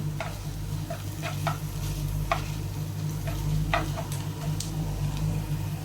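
Chicken thoran is stirred in a pan, giving intermittent spoon taps and scrapes over a steady low sizzle and hum of cooking, close up, with no speech.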